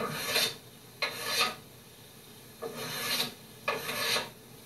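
A small Lie-Nielsen hand tool rasps along wood while shaping parts of a double bass, four separate scraping strokes with short pauses between them, close and clear with no talking.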